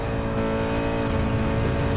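Nissan 370Z sports car driving hard around a course, a steady loud engine drone with strong harmonics held throughout, close and continuous with no talking.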